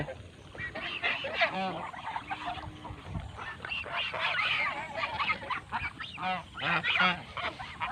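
A flock of geese honking repeatedly in overlapping, raucous calls, fairly close and continuous throughout, while some graze on grass.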